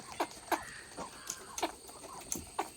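Backyard hens with one rooster give a string of soft clucks about every half second, moderately near, with faint background noise.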